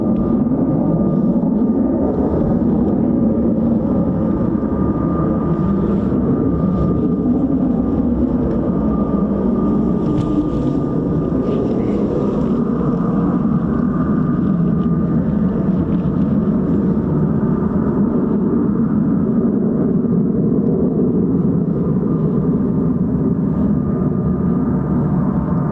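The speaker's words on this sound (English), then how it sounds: "Wow, that's what you call a short takeoff, hence the STOVL aircraft capabilities." An F-35B STOVL stealth fighter roars through a short takeoff, a loud, sustained broadband engine rumble holding steady throughout with no talk over it.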